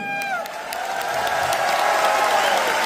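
A large audience gives sustained, loud applause for the CMD, the clapping steady and broad throughout with faint cheering mixed in and a voice briefly heard at the start.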